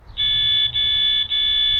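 Red alert alarm from a Tapo ColorPro security camera: loud, piercing electronic beeps, three long steady tones separated by brief gaps, like a fire alarm, sounding alone and close.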